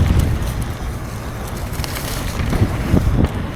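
Gusty wind buffets an action camera's microphone, producing loud low rumbles and thumps that rise and fall unevenly throughout.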